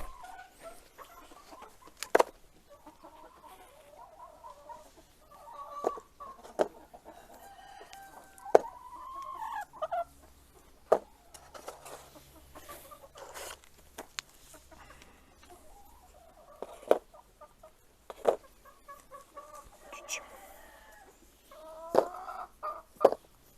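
Chickens in a coop on a free-range poultry farm, with roosters crowing and hens clucking in scattered bursts, some close and loud, others further off, with no talk over them.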